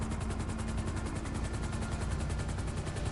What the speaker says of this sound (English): Helicopter's getting in place.